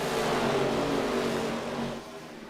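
Race cars circle the Richmond track in the iRacing video game, their engines whining together in a continuous close drone that dips and fades toward the end.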